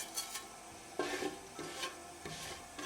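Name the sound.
cumin seeds sizzling in olive oil in fry pan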